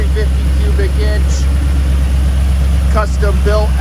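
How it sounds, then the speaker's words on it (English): A 350 cubic inch small block Chevy V8 with a mild cam idles steadily in a frame-off restored 1968 Chevrolet C10 pickup, a loud continuous rumble with faint clicks and ticks over it. "That's a small block Chevy engine, 350 cubic inch"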